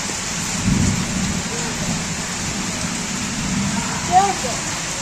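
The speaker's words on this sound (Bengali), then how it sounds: "এখন নেমেছে মানে ব্যাপক বৃষ্টি" Steady heavy evening rain hisses throughout, with a low rumble of thunder swelling early on and a brief faint voice-like sound near the end.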